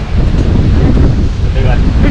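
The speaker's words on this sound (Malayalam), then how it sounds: "നല്ല ഭീകര കാറ്റിങ്ങനെ വീശിക്കൊണ്ടിരിക്കുകയാണ്" Strong cold wind at Top Station, Munnar, buffets the microphone in a loud, continuous roar with gusty fluctuations throughout.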